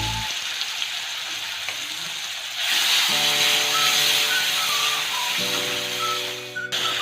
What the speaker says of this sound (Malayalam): ഇനി പൈനാപ്പിൾ ഈ നെയ്യിൽ നമ്മൾ നല്ലതുപോലെ ഒന്ന് വഴറ്റിയെടുക്കണം കേട്ടോ, ഒന്ന് വേവിച്ചെടുക്കണം.